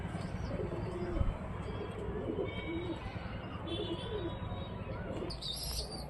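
Pigeons in a newly built rooftop pigeon loft coo in low, repeated murmurs alongside faint chirps, heard over a steady background hum and light ambient noise.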